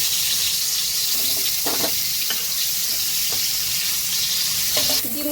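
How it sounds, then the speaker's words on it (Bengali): Duck eggs seasoned with salt and turmeric fry lightly in oil in a pan, a loud, continuous crackling sizzle broken by a few soft clinks of a spatula. "ডিমটা হালকা করে ভাজা হবে।"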